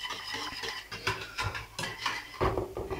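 Chocolate caramel cream is stirred in a pot with a utensil, giving a short run of close, soft scrapes and clinks against the metal at an uneven rhythm.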